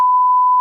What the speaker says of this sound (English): A lot of beeping going on over here.